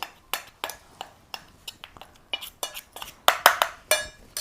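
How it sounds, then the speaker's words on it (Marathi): A spoon mixes gram flour (besan) paste in a bowl, giving a series of sharp clinks and taps at an irregular, quickening rhythm, close and alone. "बेसन पिठात लगेच चमच्याने असं मिक्स करून घ्यायचंय"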